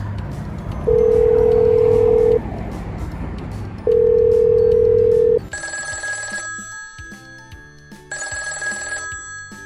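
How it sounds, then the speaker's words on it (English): A payphone's long steady dial tone sounds twice, then a series of short electronic dialing beeps follow in quick bursts. "Pick up the phone, listen for a dial tone, put in the money, and dial 555-5555."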